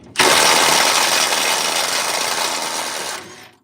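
An impact wrench with a 7/8 socket hammers on a stubborn rear bumper bolt of a lifted 1997 Ford F250 4x4, a loud, close, continuous rattling burst lasting about three seconds before cutting off.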